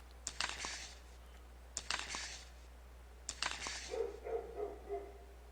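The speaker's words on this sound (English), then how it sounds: "The neighbor's dogs are barking." Several dogs next door barking in a video game at night, three separate bursts of sharp barks spaced a second or so apart, followed by a lower whimpering yip toward the end.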